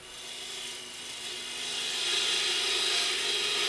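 A wooden sphere turning on a wood lathe is shaped freehand with a 13 mm bowl gouge, giving a continuous hissing scrape close by that grows slightly stronger partway through.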